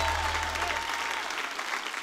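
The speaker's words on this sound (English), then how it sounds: "Let's clap our hands for Jesus in this house." A church congregation claps its hands together in a full, continuous burst of applause, crowd noise swelling over a fading low organ tone.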